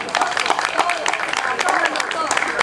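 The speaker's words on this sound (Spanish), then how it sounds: "Fuertes palmas para ustedes" A crowd at a homeowners' association meeting in Peru claps together in a dense, steady burst of applause that lasts throughout, fairly close and lively.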